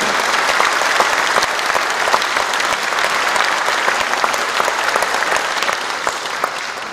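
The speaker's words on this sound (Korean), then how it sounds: "여러분 뜨거운 박수로 부탁드립니다" A crowd at a mayoral inauguration ceremony in Icheon applauds steadily, with dense, sustained clapping filling the space without a break.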